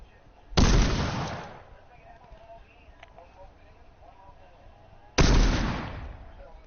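A gun fires in the video game Fortnite, two loud, heavy shots several seconds apart, each with a booming tail that decays slowly.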